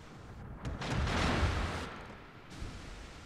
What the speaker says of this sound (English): Oh, and somebody else is shooting at me.